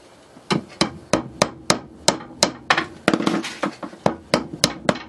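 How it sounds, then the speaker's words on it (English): Steady run of sharp hammer taps on a small brad nail held in needle nose pliers, about sixteen close, loud strikes in even rhythm, some doubled, while building pantry space in an RV tiny house kitchen. "now I'm using a needle nose pliers to hold the brad, and it's working very well"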